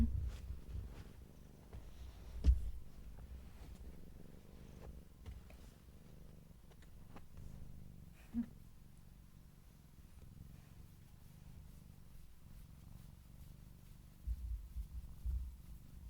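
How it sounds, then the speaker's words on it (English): A cat purring softly and continuously up close, a low rumbling murmur with a few small bumps and rustles, no talking. "Oh, I hear him purring."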